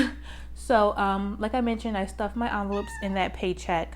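A pet cat meows indoors, mostly masked beneath a person talking steadily close to the microphone throughout.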